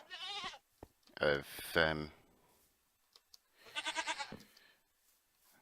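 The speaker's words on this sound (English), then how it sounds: "poor goat" A goat in Minecraft bleats several times in short wavering cries, some in quick succession, with someone talking briefly between them.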